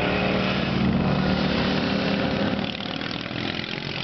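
Stock-engine racing lawnmowers roar in a first heat at a farmers festival race in Pigeon, Michigan, a dense sustained engine buzz that eases slightly partway through.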